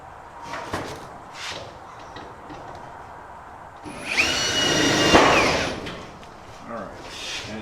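Power drill driving self-tapping screws into a Greentouch cooler rack in a shop, a couple of short, sharp whirring bursts standing out over background noise and faint clatter.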